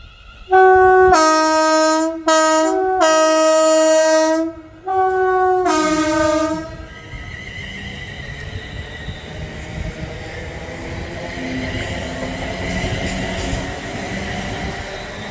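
A train horn sounds loudly in several long blasts, then a London Northwestern Railway passenger train rumbles and rushes past close by at Berkhamsted station, with steady rolling noise.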